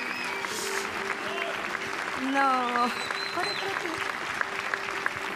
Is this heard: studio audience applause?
yes